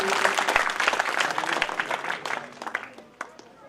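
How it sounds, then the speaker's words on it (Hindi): Audience applause for a young girl who has just recited a poem at a community talent award ceremony in Bidasar: dense, sustained clapping from a hall crowd that gradually thins and trails off into a few scattered claps. "जोरदार तालियां बच्ची के लिए।"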